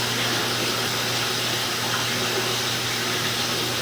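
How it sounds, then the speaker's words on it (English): Water rushes steadily through a steeply pitched drain pipe during a camera inspection, a constant loud hiss with no pauses and no voices. "We're going to leave the water running as we pull back, so we can see any kind of low spots or anything."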